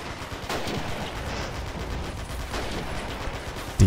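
A DP machine gun fires during a Stalingrad battle in a war game, heard as dense, rumbling bursts amid continuous distant combat noise, with a sharp louder hit at the very end.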